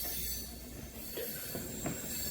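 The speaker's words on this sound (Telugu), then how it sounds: "ఇక్కడ మీరు చూడొచ్చు మన ట్రైన్ అయితే నెమ్మదిగా సైడ్ అయిపోయి రైట్ డైవర్షన్ అయితే తీసుకుంటుంది." The 58506 Gunupur fast passenger train rolls slowly through a right-hand diversion, giving a steady low rumble with a few faint wheel squeals and clanks midway, heard from on board with no talk.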